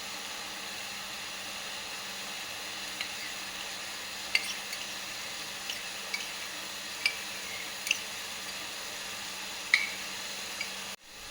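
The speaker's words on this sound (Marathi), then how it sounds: "छान सगळं परतून घेऊ." Carrot halwa cooked with condensed milk being stirred and sautéed in a pan, a soft steady frying hiss with scattered sharp scrapes and clicks of the spoon against the pan, no talking.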